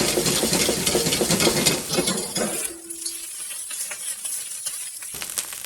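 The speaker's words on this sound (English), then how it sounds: "I want to stir fry this." Fried rice with pork belly burnt ends being stir-fried in a hot pan: loud continuous sizzling with scraping and clinking of a utensil tossing the rice, easing off partway through.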